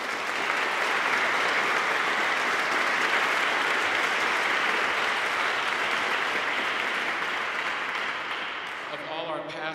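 A concert audience gives a sustained round of applause at an organ concert, thick and even clapping that holds for most of the stretch before tapering off at the end.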